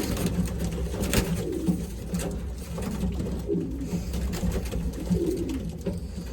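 Racing pigeons coo softly in a loft, their low, rolling calls repeating again and again over steady background noise, with no talking.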